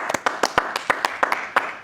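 Audience at a comedy show claps in short, sparse bursts, a handful of separate sharp claps in an uneven rhythm, close and fairly loud, with no voices over them.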